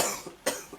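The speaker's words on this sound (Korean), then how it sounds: "기침 많이 괜찮아졌네 그래도." Two short coughs from one person, close and fairly loud, with a brief pause between them, no talk.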